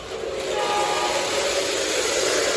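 A vintage Lionel 027 model train runs steadily on its track, producing a constant whirring motor hum and rolling rumble without pauses.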